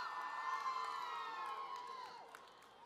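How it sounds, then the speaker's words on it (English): A crowd at a campus singing competition at Murray State University cheers and whoops with rising voices, with some possible booing mixed in, steady and moderately distant, fading slightly toward the end. "Some people booed Illinois, which is interesting."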